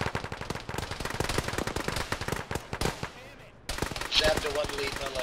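Gunfire in a military video game played by the ShackTac group, with loud, close bursts of rapid automatic fire, a brief lull, then more shots mixed with muffled voices over radio chatter.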